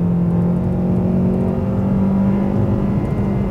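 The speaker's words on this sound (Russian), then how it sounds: "Вручную переводим на вторую и разгоняемся дальше." A Lada Vesta 1.6 with an AMT robotic gearbox accelerates in second gear, its engine droning steadily and loudly close up throughout, with a constant low hum and no talk.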